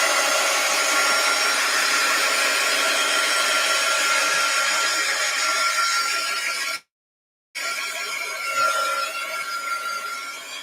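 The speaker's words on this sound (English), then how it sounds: "now I do think I want to hit it with a little heat gun" A small heat gun blows hot air over a canvas in a steady close hiss that cuts out abruptly for under a second, then resumes with a slightly changing tone.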